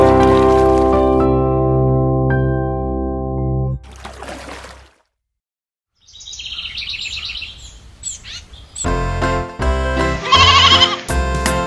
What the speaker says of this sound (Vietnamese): Mary có một chú cừu con, chú cừu con, chú cừu con.